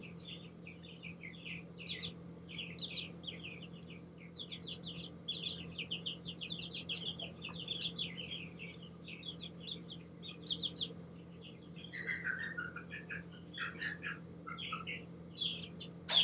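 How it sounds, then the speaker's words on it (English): A young backyard chicken, about five weeks old and suspected to be a rooster, makes a steady stream of high chirps and soft clucks over a constant low mechanical hum, with the calls continuing nearly without pause. "I want to show you this chicken that I'm pretty sure is a rooster"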